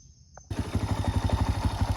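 A cam-upgraded 141cc minimoto engine sputters to life after a brief silence, then settles into a steady, rapid, loud chugging idle close by.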